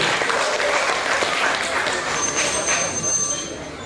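Audience at a village school quiz competition applauding a team, a dense burst of clapping that holds steady and tapers slightly at the end.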